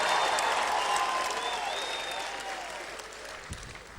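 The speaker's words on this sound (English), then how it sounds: "Come on, ladies, clap for me just for a couple seconds here." Audience applause, largely from women in the crowd at a sermon, rolls steadily for a few seconds and gradually tapers off.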